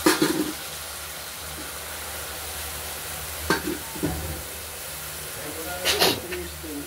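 Steady low sizzle of pointed gourds frying in oil, with a few sharp scrapes and clatters of a spatula stirring the pan.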